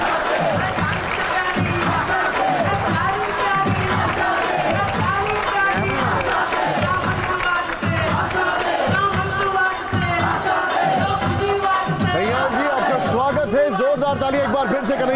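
A TV studio audience cheers and applauds Congress leader Kanhaiya Kumar with loud, steady crowd noise and rhythmic clapping, while a host speaks energetically over it.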